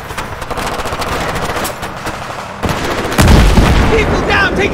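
Gunfire erupts in a Battlefield 3 firefight during an ambush from the trees on the left, with dense rapid bursts and booms growing louder partway through, while voices shout over the shooting.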